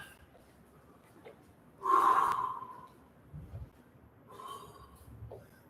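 One sharp, loud breath bursts out after a set of taekwondo jumping drills, followed by softer, quieter panting and breathing.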